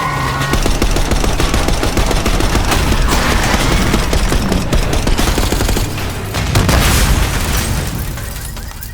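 Dense, loud gunfire and booming explosions from a street battle in Call of Duty: Black Ops 6, rapid automatic bursts rattling continuously for about nine seconds with a brief dip near the end.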